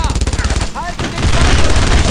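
Heavy, dense gunfire and explosions in the World War II shooter Brothers in Arms: Road to Hill 30, a loud continuous barrage with German voices calling out over it.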